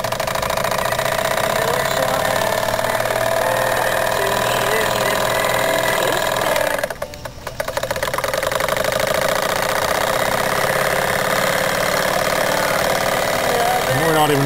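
A Jensen 25 model steam engine runs steadily with a busy, rattling mechanical chug, close and fairly loud, briefly dropping off for a moment midway before picking back up.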